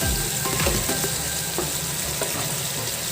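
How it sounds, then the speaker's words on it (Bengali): Prawns dropped into a boiling coconut gravy for Bengali chingri malaikari give a loud, continuous sizzle and bubbling, with a few clunks at the start, close up and without speech. "আমার গ্রেভিটা একটু ফুটে গেছে, তো এবার আমি মাছগুলোকে দিয়ে দিলাম"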